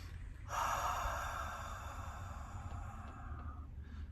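A single long, deep breath taken up close as a breathing exercise that stresses the exhale before cold-water immersion, lasting about three seconds against a low background hum.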